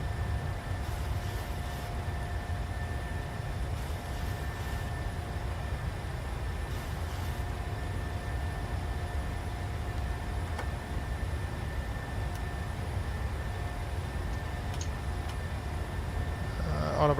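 Airliner engines roar during the takeoff roll of an Airbus out of Miami in Flight Simulator. A steady, dense low rumble holds evenly throughout, with faint higher tones on top and no voices.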